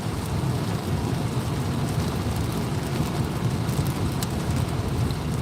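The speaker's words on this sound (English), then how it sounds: "I wonder if it's gonna be raining all day, because it's raining." Steady rain pours outdoors, a dense, even hiss that stays loud and unbroken throughout, with no voices over it.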